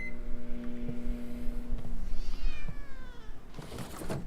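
A cat meows in a video game over a steady electronic hum and beeping tones, with several short close meows.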